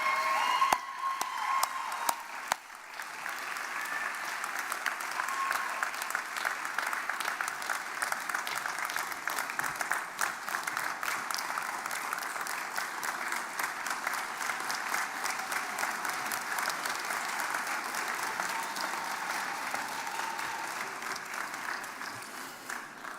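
Audience applause fills a graduation commencement hall, steady and sustained for over twenty seconds, with a brief louder opening burst before settling into continuous clapping from a large crowd.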